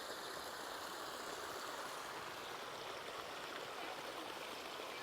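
Storm rainwater rushes steadily over falls in a stream, a continuous broadband roar at moderate distance with no pauses.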